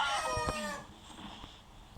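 A rooster crows loudly and close by, one harmonic-rich call that fades out after about a second, followed by quieter room ambience.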